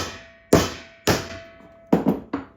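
Almonds inside a tin can are struck on an anvil: four sharp metallic hammer blows with ringing decay, the last two coming in quick succession, close and loud.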